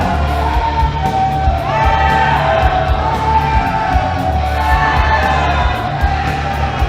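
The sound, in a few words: wrestling crowd cheering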